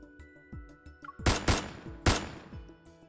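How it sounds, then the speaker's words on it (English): Gunshot sound effects ring out in an empty reception hall: a few sharp, loud cracks in quick succession with short echoing tails, over a faint low musical drone and no speech. "A gunshot explodes in the empty reception hall."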